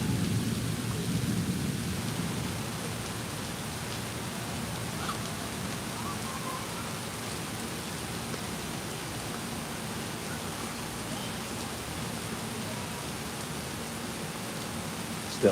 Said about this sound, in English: the same bit of thunder's been going on now for like 40 seconds